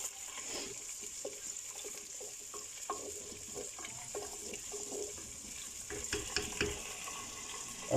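Butter melting in a clay cooking pot for matka meat, a steady soft sizzle with faint crackles and scattered pops running throughout, moderately quiet and close.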